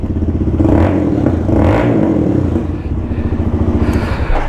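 A GPX Demon motorcycle revs hard through its exhaust in a service workshop, a loud, close engine roar rising and falling in repeated throttle blips with mechanical clatter throughout.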